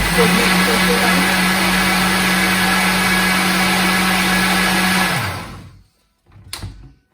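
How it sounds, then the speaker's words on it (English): Electric blender mixing a batter with water, a loud steady motor whir and churn that winds down and stops, followed by a brief faint clatter. "with blender it is a bit easier and finely mixed"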